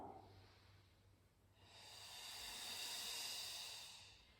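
A long, airy exhalation during a Pilates movement rises from quiet into a soft, sustained hiss that swells and slowly fades, close and alone.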